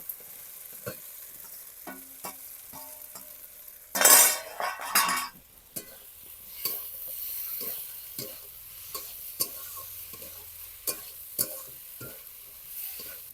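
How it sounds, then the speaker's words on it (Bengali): Fried potatoes stirred into sizzling masala in a pan: a spoon scrapes and taps against the metal in scattered clinks, with a loud burst of sizzle as the potatoes go in and quieter frying underneath. "এর মধ্যে আমি এই ভেজে রাখা আলুগুলো দিয়ে একটু নেড়ে চেড়ে নেব"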